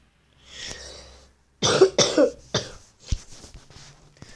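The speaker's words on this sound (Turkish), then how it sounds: "Ben sadece öksürüyorum." A person coughs several times: one soft cough, then a harsh burst of coughs, followed by a few quieter throaty coughs.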